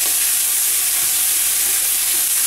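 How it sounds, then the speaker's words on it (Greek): Meat sears in a pan for a Christmas recipe, a steady loud sizzle and crackle of frying that runs throughout with no voices. "Πρέπει λίγο να θωρακιστεί το κρέας,"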